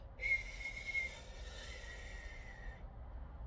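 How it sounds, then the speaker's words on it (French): A soft, airy breath out through the mouth carrying a thin, steady whistle that lasts a couple of seconds before fading. "tu expires par ta bouche, mais en faisant un léger sifflement"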